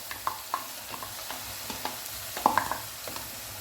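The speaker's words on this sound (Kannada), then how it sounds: "ಈಗ ನಾನು ಆನಿಯನ್ ಪೇಸ್ಟ್ ಮಾಡಿ ತಂದಿದ್ದೇನಲ್ಲ ಅದನ್ನು ಇದಕ್ಕೆ ಹಾಕಿ ಫ್ರೈ ಮಾಡ್ತೇನೆ" Onion paste frying in oil over a high gas flame for a Punjabi chicken gravy, a soft steady sizzle broken by scattered spoon clicks and scrapes, with no talking.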